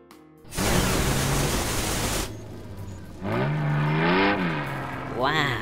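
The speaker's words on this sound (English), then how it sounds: "The turbocharger fits onto Max's engine to make him more powerful" A cartoon bus engine fitted with a turbocharger revs in bursts, a loud rushing roar followed by rising and falling whining revs, close and prominent.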